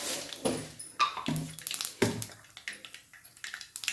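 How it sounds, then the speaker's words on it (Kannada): Mustard seeds crackle and spit in a generous amount of hot oil as a tempering for North Karnataka-style rotti oggarane, giving close, irregular bursts of sharp pops and sputters. "ಸಾಸಿವೆ ಸಿಡಿತಾ ಇದೆ ನೋಡಿ."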